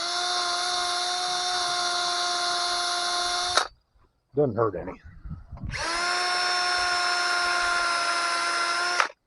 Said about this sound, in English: round brush on drill.